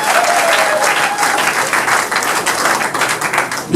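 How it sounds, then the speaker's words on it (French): A comedy show audience applauds loudly and continuously, dense clapping filling the whole stretch without a break. "On applaudit pour le s'il vous plaît."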